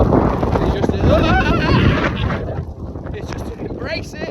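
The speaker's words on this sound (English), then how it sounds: "I've never walked in such heavy winds and gusts" Heavy 50mph+ wind gusts batter the microphone on an exposed walk at Red Tarn, a loud continuous roar and buffeting rumble that surges and eases across the whole stretch with no clear speech.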